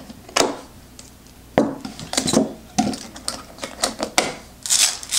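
Airtight Martha Stewart stainless steel canisters being latched shut, a series of sharp metallic clicks and clacks, close and irregularly spaced, with a brighter rattle near the end.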